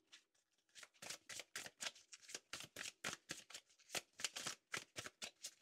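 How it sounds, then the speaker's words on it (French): Oracle number cards are shuffled by hand in a run of quick, crisp riffling flicks, each burst sharp and close, repeating steadily throughout with no voice over them. "Une petite carte de l'oracle des nombres."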